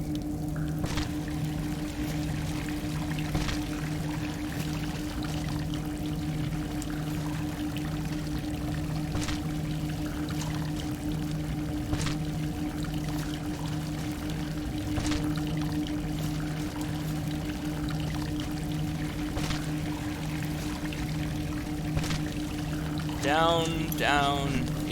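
Water flows and trickles in the Salt and Sanctuary video game, a steady low wash under a humming drone, with soft drips scattered throughout.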